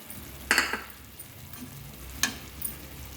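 Chilli powder, coriander-cumin powder, masala and boiled potato pieces are stirred in a pan. Two distinct scraping strokes ring out close over a soft, steady sizzle, with lighter clinks in between.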